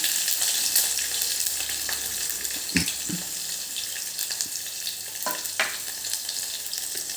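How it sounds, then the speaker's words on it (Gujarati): Cumin, asafoetida, garlic cloves, a chili and curry leaves sizzle in hot oil in a pan, giving a continuous crackling hiss. Occasional stirring clinks and spatters punctuate the frying, and nobody speaks. "આપણું જીરું તતડી ગયું છે તો વન ફોર ટીસ્પૂન હિંગ એડ કરીશું એની અંદર આઠથી દસ કડી લસણ એક મરચું"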